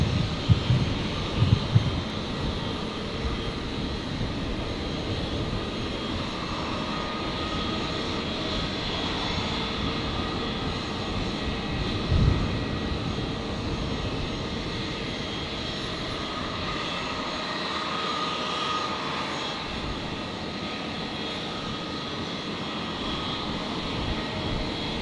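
A Rex airliner arriving from Melbourne lands on runway 01 right at Brisbane Airport, its engines giving a steady, loud roar that holds throughout without speech.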